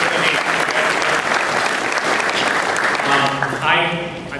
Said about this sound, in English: You all should give yourself a hand.